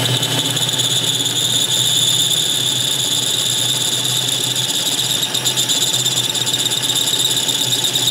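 A Ridgid R4512 table saw runs steadily after being switched on, a loud, continuous motor whine with a high-pitched tonal edge that holds evenly throughout, alone with no talking.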